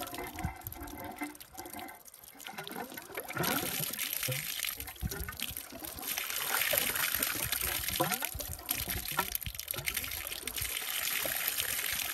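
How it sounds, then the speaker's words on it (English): Water trickles and gurgles steadily into empty garden water-system pipes, a continuous splashy rush that grows fuller partway through, with faint voices in the background. "It's a good sign we got water coming though."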